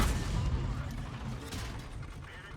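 A World of Tanks M4A3E2 Sherman Jumbo fires its short derp gun loaded with HE, a dense, boomy blast that stays loud and rumbling for the whole few seconds with a voice talking faintly over it.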